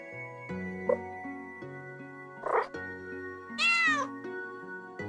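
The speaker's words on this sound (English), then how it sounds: "Say meow for me." A cat in the video game Umbraclaw gives a few short meows, one rising and clear near the end, over a quiet sustained synth music backdrop.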